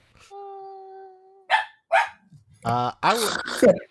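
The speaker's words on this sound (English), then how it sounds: "My dog's upset too." A dog barks during a podcast recording: a steady electronic tone first, then a few sharp, close barks and yelping vocal sounds in quick succession.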